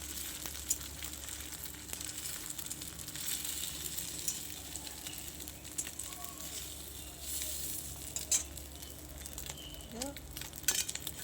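An omelette fries in a pan on a home stove, giving a steady, close sizzle with a soft crackle throughout and a few brief clinks near the end.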